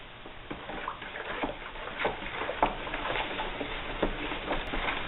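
Homemade laundry soap mixture with washing soda being stirred in a container, a continuous scraping, swishing churn with irregular louder scrapes, close and fairly loud, no voices.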